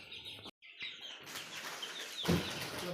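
Backyard chickens gather at feeding time, with close wing flapping, a brief cluck and shuffling movement, then a louder rustling burst near the end.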